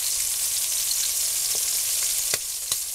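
Green beans tipped into a simmering one-pot pork chop meal give a loud, steady sizzle and bubbling hiss, with a few sharp clinks and stirring knocks near the end and no talking.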